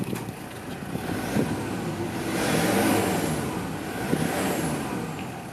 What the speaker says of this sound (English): Really healthy engine. Sounds great, runs great